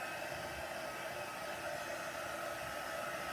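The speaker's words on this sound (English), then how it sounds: "I'm actually using my heat gun." A heat gun blows a steady, loud, even whoosh of air while drying a layer of a craft project, running unbroken and alone.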